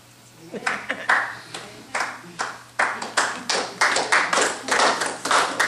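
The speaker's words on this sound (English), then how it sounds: "Clapping, but they clap as slow." Slow clapping from a church congregation during a sermon, a sequence of separate claps with gaps between them that become more regular and closer together over a few seconds.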